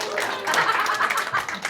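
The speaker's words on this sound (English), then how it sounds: "Clap it up." A comedy club audience gives a short, thin round of clapping, a light patter of scattered hands with faint chatter and chuckles mixed in.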